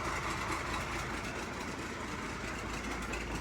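An old Allis Chalmers 200 tractor engine idles steadily at a low, even rumble throughout, close and moderately loud, with a brief knock at the very end; no one speaks.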